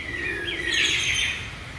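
A small bird chirps close by at London Zoo, a bright, wavering call rising and falling over light outdoor background noise.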